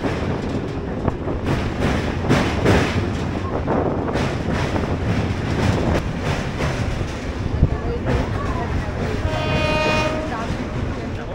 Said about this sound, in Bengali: দেখো, ওই সাইডেও কিন্তু একটা লোকাল ক্রস করছে।